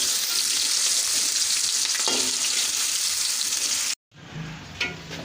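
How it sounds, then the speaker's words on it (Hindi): Onions sizzling in hot ghee in a pan, a loud, steady frying hiss that cuts out briefly near the end, then resumes more softly with a clink of stirring. "मैंने घी लिया, इसको मैंने गरम कर लिया। अब मैं इसमें प्याज डाल दूँगी।"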